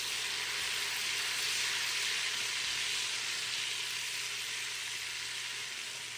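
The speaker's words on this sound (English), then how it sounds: "I'm melting down my 6 tablespoons of butter. And I'm just doing this on medium heat so I can watch it." Six tablespoons of butter melting in a large pot over medium heat, a soft, even, steady hiss with a faint low hum beneath, no stirring or voices.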